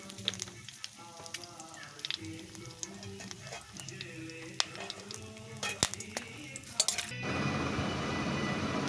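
Whole spices, namely bay leaf, cumin, cinnamon, cardamom and cloves, crackle in hot mustard oil for biryani, with scattered pops and utensil clinks before a sudden, louder steady sizzle takes over.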